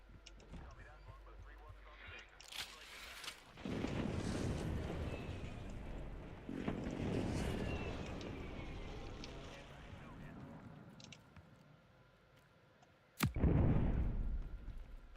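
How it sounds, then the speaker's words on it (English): Precision airstrike explosions in Call of Duty Warzone: heavy booming blasts roll through the battlefield noise in several separate waves, the last one sharp and loud, with voices talking over the game sounds. "Enemy precision airstrike."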